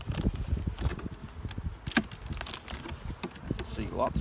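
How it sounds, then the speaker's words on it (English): Bees in the frames of a beehive nuc, a close buzzing hum with wooden knocks and handling clatter from the frames throughout. "Two to three frames of bees."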